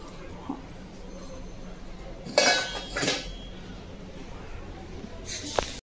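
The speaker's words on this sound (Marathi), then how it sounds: "पूर्वी सगळी मांडणीची भांडी काढते वाटतं खाली आता." Pots and dishes pulled down from a kitchen rack clatter in two or three bursts of metallic clanking against quiet room noise, with faint voices around.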